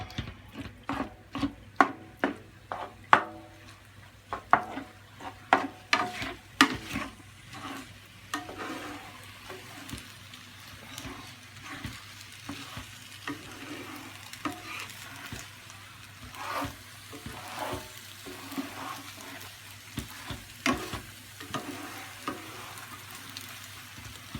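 Spam being bashed and stirred in a hot frying pan, a run of sharp, loud utensil knocks against the pan at first, then a steady close sizzle with scattered scraping and tapping, no talking.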